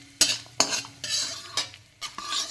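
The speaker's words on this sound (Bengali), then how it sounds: "এটাকেও আমি 2 মিনিট নেড়ে চেড়ে ভেজে নেব।" Cashews and raisins are stir-fried with whole garam masala in a pan, a spatula scraping and clinking in sharp repeated strokes over a light, continuous sizzle.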